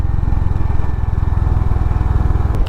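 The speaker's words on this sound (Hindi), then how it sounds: "दूसरे गियर में चल रही है बाइक।" A Honda CB 350 RS motorcycle coasts downhill in second gear on a mountain highway with no throttle, its engine giving a loud, steady low thumping putter close to the rider, with no talk.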